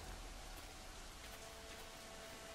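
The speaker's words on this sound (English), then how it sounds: "I can't see anything with this rain." Heavy rain in the pirate video game Assassin's Creed IV: Black Flag, a steady hissing downpour with no breaks, moderately quiet and static-like throughout.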